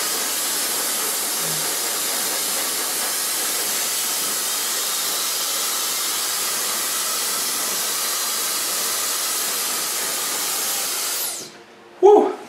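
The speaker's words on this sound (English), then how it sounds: "So far blow drying." Hair dryer blowing on fine, short platinum pixie-cut hair, a loud steady rushing whir lasting about eleven seconds before it cuts off abruptly, followed by a brief clatter.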